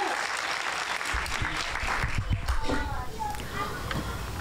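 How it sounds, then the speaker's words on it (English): An outdoor crowd applauds at a morning celebration honoring an Olympian in Burlington, a steady burst of close clapping mixed with voices and children's chatter. "Let's give them a nice round of applause, please."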